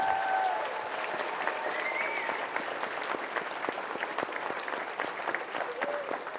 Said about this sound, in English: Let's give Maya a round of applause